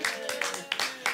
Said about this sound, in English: More applause required.